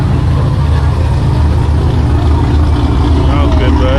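A fourth- or fifth-generation Chevrolet Camaro with an aggressive cam idles loudly nearby in a lumpy, uneven rumble that runs steadily throughout.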